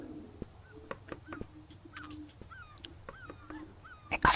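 Gull calls in an indie horror video game, several short rising cries scattered among clicks and small thuds over a faint low hum, ending with a brief loud burst.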